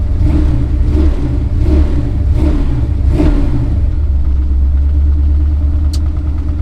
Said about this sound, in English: try to get this thing idled down, because it is idled up crazy high